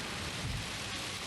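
Heavy rain in Gran Turismo 7 pours as a dense, steady roar of broadband hiss with a low rumble beneath it, loud and unbroken for just over a second.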